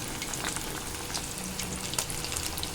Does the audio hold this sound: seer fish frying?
yes